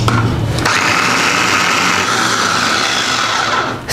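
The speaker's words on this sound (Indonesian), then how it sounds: "Selanjutnya kita mau chop-chop udang." An electric food chopper whirs through raw shrimp, a loud, close motor buzz that spins up sharply and runs steadily for a few seconds before winding down.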